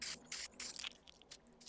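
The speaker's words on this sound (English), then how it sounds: "Here we're just tidying up the wheels with a bit of spray paint" Short hissing bursts from a spray can painting the wheels of a Mk2 VW Golf GTD, several in a row with brief pauses between, close and fairly loud.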